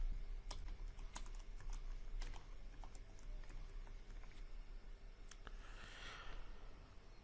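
Keys tapped on a computer keyboard while a spreadsheet is being filled in, a quiet, sparse run of light clicks spread over several seconds with no talking.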